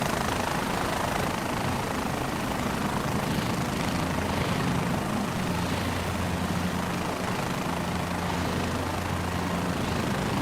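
Helicopter engine in a flight game throttling up from minimum, a steady whirring drone with a low tonal hum that holds evenly throughout, no voices over it.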